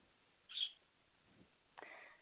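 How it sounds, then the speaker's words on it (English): Pet bird calling faintly in the background of a quiet indoor room, one short high chirp followed by a softer, longer call a moment later. "What is the bird in the background? I keep hearing a bird."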